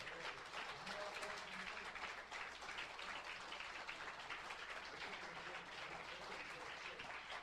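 Church congregation claps together in a steady, sustained round of applause, a dense crackling patter of many hands heard faintly and at a distance throughout.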